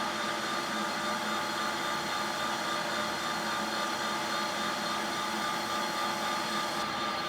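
A steady, loud mechanical whir and hiss comes from a PM 1440 HVT-2 metal lathe taking a facing cut, with a continuous motor hum and no break.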